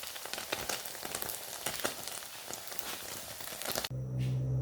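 Chicken roll sizzling and frying in a hot pan, a steady crackling hiss that fills most of the clip, then stops abruptly and gives way to a different, quieter hum.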